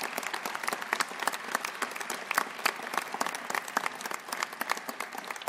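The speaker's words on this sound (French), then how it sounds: "Applaudissez la République" A civic New Year's greetings ceremony audience applauds steadily, dense sustained clapping from a large crowd at moderate distance, with no speech over it.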